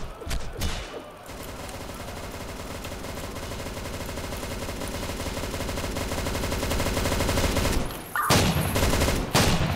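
Sustained rapid turret gunfire in the Roblox game The Hunt, a loud continuous machine-gun burst that runs for several seconds, breaks off briefly, then resumes in heavy volleys.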